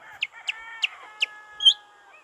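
A chicken clucks in a quick series of short, sharp notes at a steady rhythm over a faint sustained background tone, ending with a slightly louder squawk.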